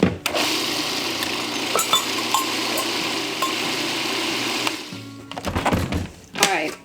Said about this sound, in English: we'll just give this a little extra turn in the food processor to mix it up really good